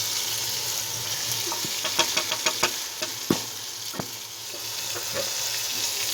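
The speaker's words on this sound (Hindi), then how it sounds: "पाउडर मसालों को हम जो है ना 5 से 6 सेकंड तक जो है इसको मसाला फ्राई करेंगे" Powdered spices frying in hot oil for a dal dish, a steady sizzle with a quick run of sharp spoon taps and knocks against the pan, close and without voices.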